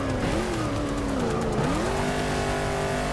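A Ford GT40 race car in Forza Motorsport 6 screams through its gears, the engine note rising and dipping with shifts and cornering, with some tire squeal, loud and continuous with no talking.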